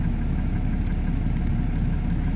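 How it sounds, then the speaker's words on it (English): A Canadian-made tractor engine idles in a steady, continuous low rumble, fairly close and even in level throughout, with no talking. "that tractor's made in Canada. It's a Canadian tractor."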